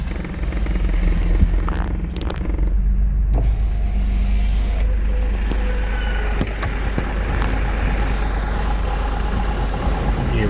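A car pulls to a stop beside a forest road near Dhangadi Gate in Corbett National Park, with a steady loud engine and road rumble throughout and faint mechanical whirs and clicks over the top.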